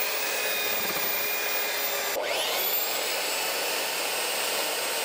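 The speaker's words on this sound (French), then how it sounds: "on va prendre l'exemple d'une ponceuse 950 watts, ça devrait être un jeu d'enfant" A 950 watt electric sander runs steadily beside a swimming pool, powered from a portable power station, producing a constant high whine with a brief pitch dip partway through before it returns to full speed.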